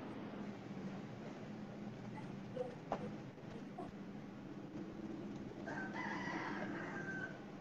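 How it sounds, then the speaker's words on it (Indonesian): A rooster crows faintly in a village at Kampung Batu Aji, its call rising late over a quiet, low background murmur, distant and soft. "ayam, lucu suaranya."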